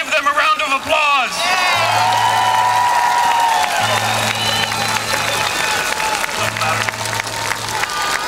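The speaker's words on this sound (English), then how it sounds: "Let's give them a round of applause." Crowd applause at an outdoor union rally in Grand Park, dense, continuous clapping with whoops and cheers from many people, punctuated by low honking horns.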